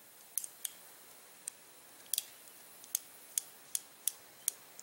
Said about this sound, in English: And you get a little clicking, and that's that little stop right there going in these little grooves.